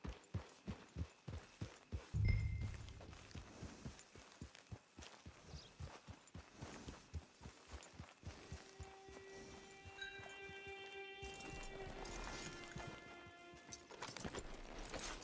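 Horse hooves clip-clop steadily at a walking pace in Red Dead Redemption 2 Online, loud and near at first, then softening under a bed of game music with tonal notes.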